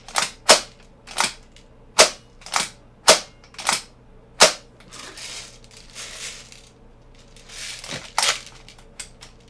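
A KWA MP9 airsoft gun fires BBs in a series of sharp, close snapping shots, about seven in quick succession, then scattered rustling handling noise and a couple more cracks, with no talking.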